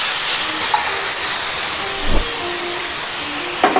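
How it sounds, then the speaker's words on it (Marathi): Water hits a very hot iron dosa griddle heated for moong dosa and sends up a loud, steady hiss of steam close by. It holds for several seconds with only small flickers of sizzle. "डोश्याचा तवा चांगला गरम झालेला आहे। थोडंसं पाणी टाकूया"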